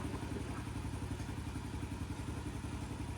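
A Yamaha TTR50 dirt bike engine, recently fixed for a carburetor problem, idles while warming up. It gives a steady, close, rapid putter with a light mechanical clatter throughout.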